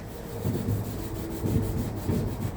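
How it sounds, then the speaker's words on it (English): The scrub side of a sponge rubs against a door in a few rhythmic, close back-and-forth strokes, making a soft, gritty swishing with no voices. "put a little scrub to it"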